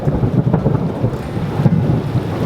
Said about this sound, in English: it's a massive lightning storm